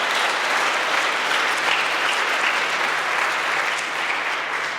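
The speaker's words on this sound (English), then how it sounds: "But you can already give a hand of applause to the winner." Sustained audience applause at the European Charlemagne Youth Prize ceremony in Aachen, a dense, even wash of many hands clapping throughout without letting up.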